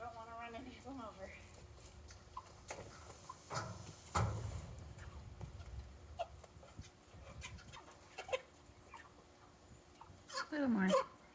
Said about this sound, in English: That chirping is not me running them over, that's them choking on the food.